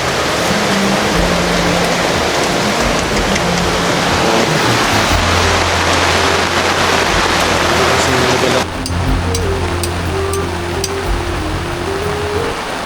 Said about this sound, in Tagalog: Grabe, yung level ng tubig tumataas na dito.